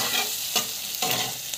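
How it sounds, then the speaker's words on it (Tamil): Chana dal with asafoetida sautés in a pan, giving a steady close sizzle broken by a few scraping stirs, with no talking. "பெருங்காயம் வந்து ஆட் பண்ணுறோம். கடலைப்பருப்பு போட்டு நல்லா வதங்குறோம்."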